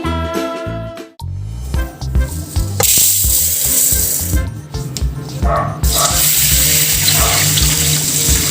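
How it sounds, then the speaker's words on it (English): Ingredients for ube mais are rinsed under running tap water in a sink, a loud, close, continuous splash and gush with clatter from handling, swelling and easing as the flow changes. "Rinsed in water before cooking."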